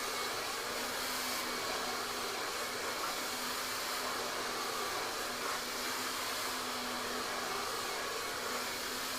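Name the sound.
hair dryer blowing air onto a round brush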